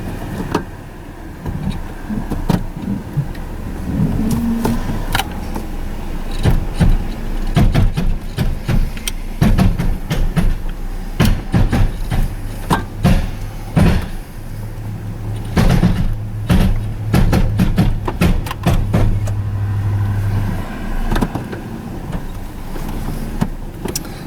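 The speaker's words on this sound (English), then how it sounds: "It's loud in both, but like I say, it's going to resonate up through that drive shaft." Drivetrain of a Chevy S-10 4x4 in low range, a steady low mechanical drone with a resonant hum carried through the drive shaft, continuous and fairly loud, with scattered knocks and clunks over it and no talking.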